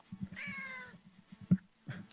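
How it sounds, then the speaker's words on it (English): A cat meows a few times nearby, short drawn-out calls separated by brief pauses, standing alone without talk. "I hear a cat going off there"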